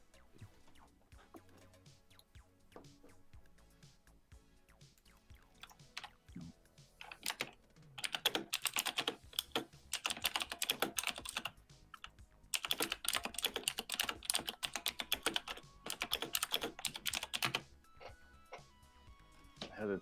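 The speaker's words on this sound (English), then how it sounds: "That is an extremely loud keyboard." Rapid clacking keystrokes on a loud mechanical keyboard, sparse taps at first, then dense bursts of fast typing, close and prominent, with a voice talking faintly in the background.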